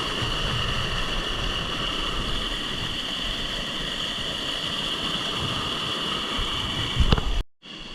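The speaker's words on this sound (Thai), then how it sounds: "น้ำตกขนาดน้อย" Small waterfall on a forest stream at Huay Thong, Bokeo, Laos, a steady close rush and splash of falling water that runs unbroken, with a brief knock near the end.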